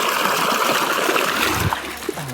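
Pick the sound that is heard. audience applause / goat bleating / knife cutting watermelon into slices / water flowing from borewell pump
water flowing from borewell pump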